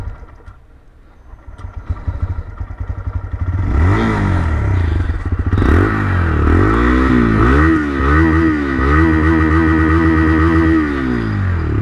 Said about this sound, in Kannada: ಎಕ್ಸಾಸ್ಟ್ ನೋಟ್ ಹೇಗಿದೆ